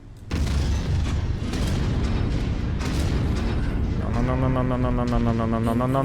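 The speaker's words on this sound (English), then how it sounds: "she's about to get an ammo explosion" A mech's stored ammunition cooks off in MechWarrior, a dense sustained rumbling blast that rolls on for seconds, later joined by a steady mechanical hum.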